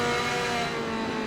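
A Ferrari and a front-engined Corvette race at Sepang in a racing video game, a sustained, steady engine drone holding a tonal pitch throughout, loud and close.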